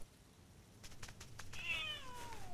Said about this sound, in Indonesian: Anak kucing itu mengejutkanku.